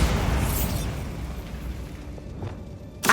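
A Bombarda blasting spell from Hogwarts Legacy bursts with a heavy, rumbling explosion that slowly decays into debris noise, with a smaller thud later and a sharp new burst right at the end, no speech.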